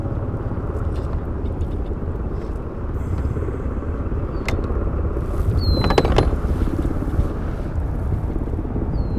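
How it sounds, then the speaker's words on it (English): A tiller is lowered on a steering test rig, giving a steady low mechanical rumble with a few brief creaks and a clank, close and fairly loud, no speech. "Now I'm going to drop the tiller a little bit here."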